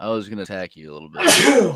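A person speaks a short sentence, then breaks into one loud, sharp, breathy sneeze close to the microphone.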